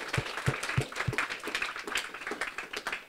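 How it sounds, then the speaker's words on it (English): A small crowd at a live performance event claps, starting with a few slow, distinct claps that quickly build into scattered, moderately loud applause. "Let's give her another round of applause."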